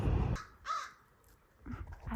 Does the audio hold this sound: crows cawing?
yes